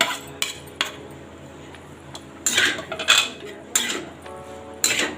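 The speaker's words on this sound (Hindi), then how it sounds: "अब मैं इसमें इस लौकी को ऐड कर लूँगी।" Bottle gourd goes into a pan of browned onions with sharp metal clanks and spoon scrapes against the pan, a few louder clattering bursts over a quiet low background. No voices.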